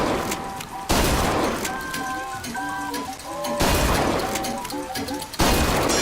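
Shooting gallery gunfire in BioShock Infinite: a loud burst of shots is followed by a brief pause with tonal chimes and carnival music, then another burst, and a third volley arrives near the end.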